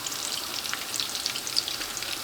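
Beer batter onion fritters fry in olive oil with a steady, close hiss of bubbling and crackling that stays even throughout, without any talking.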